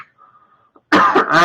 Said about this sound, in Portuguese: é tosse